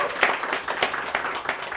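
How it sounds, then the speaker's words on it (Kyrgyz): An audience at a poetry contest claps in a short burst of applause, quick overlapping hand claps filling the room for under two seconds. "Кол чабуулар."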